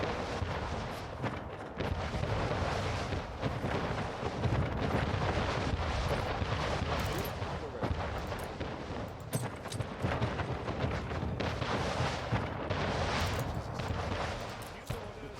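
Naval fleet cannons firing in a strategy video game, heard as dense, continuous booming barrages that stay loud throughout with overlapping blasts and rumbling impacts.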